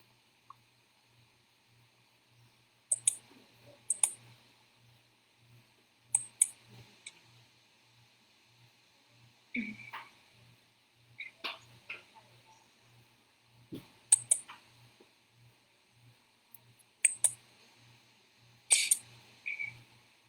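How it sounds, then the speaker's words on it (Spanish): Computer mouse clicks during a presentation setup, a series of sharp, isolated clicks in pairs and singles spread across the stretch, fairly close, with a faint steady electronic hum underneath and no talk. "denle clic nuevamente en presentar ahora"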